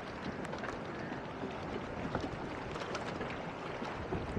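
A boat at a jetty on the water is buffeted by strong wind, giving a steady, loud rush of broadband wind noise with no voices.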